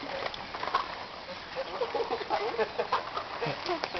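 Small chicks clucking and peeping in a steady, busy chatter, close by, with people talking over them.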